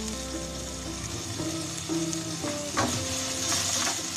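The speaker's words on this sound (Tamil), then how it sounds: "இஞ்சி பூண்டு வதங்குறப்பவே நம்மளோட புதினா கொத்தமல்லியில இருந்து கொஞ்சம் கொஞ்சம் சேர்த்துக்கோங்க." Ginger garlic paste sizzles steadily in a pressure cooker as mint and coriander are stirred in, with a few sharper scraping stir strokes over the continuous frying hiss and no voices.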